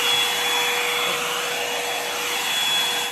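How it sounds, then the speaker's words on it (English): A Revlon hair dryer blows steadily and loudly up close, a constant airy roar with a faint high whine and no other sounds. "I've used the Revlon hairdryer just to calm down all the flyaways"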